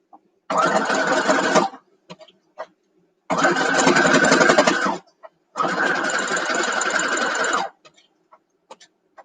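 Sewing machine stitching a nine-patch quilt block along a quarter-inch seam, running in three steady bursts of about a second or two each with brief pauses between them, close and clear with no talking.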